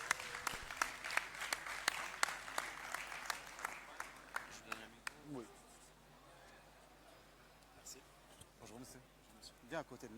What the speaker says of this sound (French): Applaudissez le champion de Luxembourg, Sisigno.